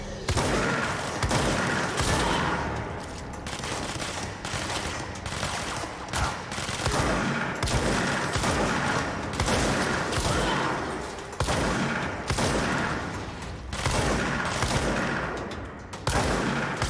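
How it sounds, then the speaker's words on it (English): Shotgun blasts and heavy gunfire from the Control video game fill a dense, continuous firefight in an office setting, loud bursts repeating rapidly throughout with no pause. "Fucking shotguns, I'll tell you."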